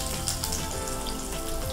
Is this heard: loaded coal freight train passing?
no